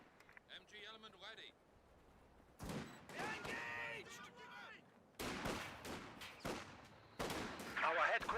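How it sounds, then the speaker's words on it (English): Rifle grenade and gunfire in a Company of Heroes match: bursts of rifle and machine-gun fire and explosive blasts arriving in separate loud volleys, with someone talking over the battle sounds. "Nice rifle grenade coming in"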